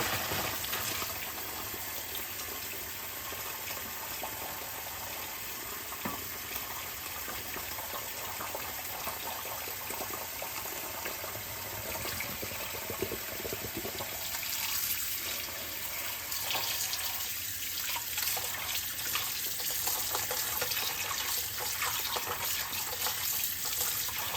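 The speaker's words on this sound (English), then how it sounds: "let me run the tap water and put it in there" Water streams steadily from a tap into a sink, a continuous broadband splashing rush that carries on unbroken throughout, with no talking.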